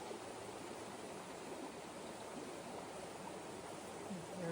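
A creek in the Ouachita National Forest near the Billy Creek trail rushes with a steady, broadband hiss of flowing water, constant and fairly close, with no talk.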